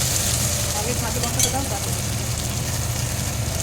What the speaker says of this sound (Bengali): তেজপাতা, জিরা, পেঁয়াজ দিয়ে ভালো করে এটা ভেজে নেব।